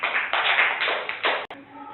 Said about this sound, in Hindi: तालियां बजाइए सभी लोग।